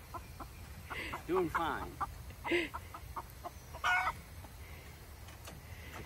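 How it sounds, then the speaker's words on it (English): A chicken clucks in short bursts several times at close range while someone speaks briefly between the calls. "Chicken doesn't like me being this close to it."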